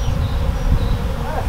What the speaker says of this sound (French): C'est incroyable comment ça bourdonne vraiment tout autour